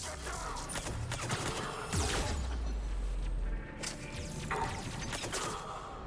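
Pistol fire in the Mass Effect 3 video game, a rapid burst of shots with whooshes and thuds from the game's action, loud and close, over a low rumbling background.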